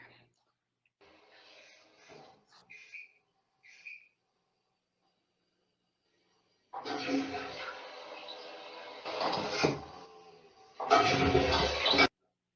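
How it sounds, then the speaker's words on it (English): Toilet flushing in a simulated 3D environment, heard as a broad rushing burst of water that rises and swells over several seconds, loud and close. Fainter brief whistling and clattering sounds come first. "there you would have heard the toilet flushing as it approached this bathroom"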